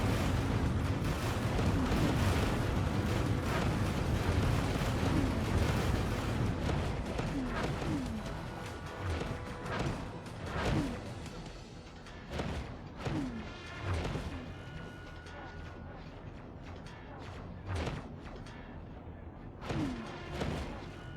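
Explosions in the space game X4: Foundations, a dense loud roar of blasts at first that thins into a series of separate booming bursts spaced a second or two apart.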